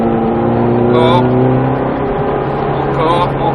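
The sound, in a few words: Ferrari F430 engine accelerating on a race circuit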